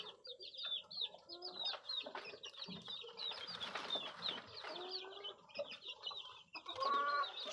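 Backyard native hens cluck and chatter repeatedly nearby, with several birds overlapping in short, uneven bursts, one louder squawk near the end.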